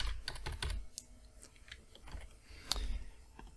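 Rapid typing on a computer keyboard, with keys clicking in an uneven rhythm and a few sharper strikes throughout, close and fairly quiet with no voices.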